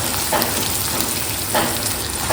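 Spiny gourd (kantola) sizzles in a pan with sautéed onions, a steady close hiss of frying broken by a few soft clicks and pops, with no voices.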